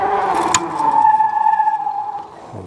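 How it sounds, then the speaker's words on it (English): A Magicycle e-bike with Tektro brakes, ridden at about 20 mph on pedal assist, skids to a hard stop with a sustained brake squeal, then falls quiet. "I'm going to slam on the brakes, and I'm pretty sure it's going to stop pretty good"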